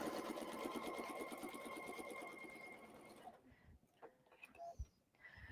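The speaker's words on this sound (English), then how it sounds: "I'm holding on to the needle and bobbin thread, and I just have to top stitch this in place" A sewing machine top-stitching single-layer quilt piecework runs in a steady, fast mechanical rhythm for about three seconds, close and clear, then stops, leaving quiet handling clicks and small bumps.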